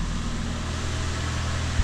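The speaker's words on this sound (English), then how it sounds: "Did start, sounds okay. Looks like it's idling just fine." A Ford Fiesta engine idling steadily just after a timing belt and water pump replacement, a constant low rumble and hum with no talking.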